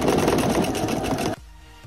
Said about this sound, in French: je vais venir coudre ici le long de mon entoilage